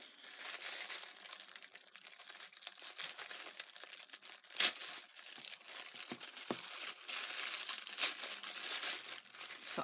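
Paper crinkles and crumples steadily while a monthly journal subscription box is unpacked, with irregular sharp rustles and a few louder crunches, close and alone without talk.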